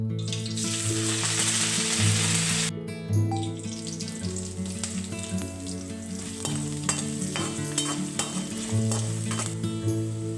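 Grated potato is stir-fried in a pan, giving a loud, close, continuous sizzle with repeated scraping and stirring strokes. A steady tonal hum sits underneath and no one talks.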